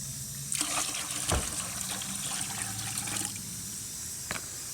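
Water runs into a bucket for mixing a cleaning solution, a close, steady trickling gush with a few knocks and splashes, fairly quiet.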